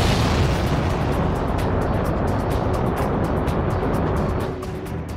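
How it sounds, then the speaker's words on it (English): A heavy launch vehicle lifting off, its engines a continuous deep, roaring rumble that fills the whole clip with a crackling edge, loud and close, easing slightly at the very end. "it will be the blast furnace of flames lifting a heavy launch vehicle off"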